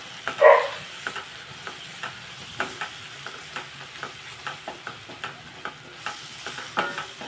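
Egg and dried shrimp curry is stirred in a pan after salt goes in, with rhythmic scraping strokes repeating over a low steady sizzle and no talking.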